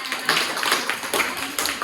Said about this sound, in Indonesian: Kasih tepuk tangan dulu ke Rania